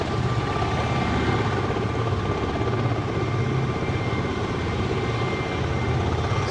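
A vertical-lift aircraft that rises like a helicopter at a regional airport, a continuous loud rotor-like roar and drone held steady throughout with no breaks.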